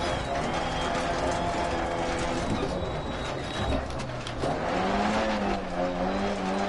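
Front-wheel-drive Mini rally car in DiRT Rally driving a gravel stage uphill, steady engine roar with shifting pitch and gravelly tyre noise, close and continuous.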